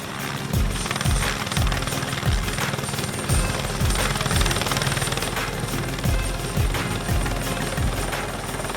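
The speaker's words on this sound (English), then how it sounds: "It's gonna be so scary when the helicopter lands in front of me." A helicopter comes in to land outdoors in strong wind, its rotor chopping in a steady loud rhythmic thump under a broad turbine roar, close and continuous with no voices.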